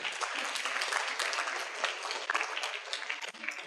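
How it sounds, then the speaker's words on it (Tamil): A crowd at a Sunday catechism jubilee celebration breaks into dense, lively applause, a continuous bright wash of many clapping hands that thins slightly toward the end. "ஜோரா கைதட்டுங்களேன்"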